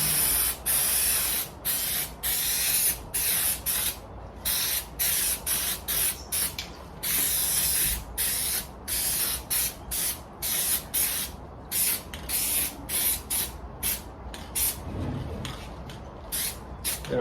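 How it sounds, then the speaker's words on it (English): Repeated short hissing bursts of Quick Grip spray adhesive from an aerosol can, sprayed onto both surfaces of a custom console build, each burst close and loud with brief gaps between, no talking. "Spray both surfaces."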